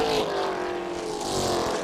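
Race cars roar together during a Thailand Super Series circuit race, a Mitsubishi Evo running just ahead of a Toyota Supra, their engines a loud, steady, sustained drone with no one speaking.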